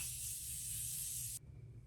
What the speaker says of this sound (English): Now I'm going to take this Morphe setting spray